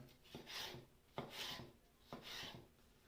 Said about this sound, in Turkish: Bu şekilde sivri biberlerimizi de şöyle çok fazla inceltmeden güzelce doğruyoruz.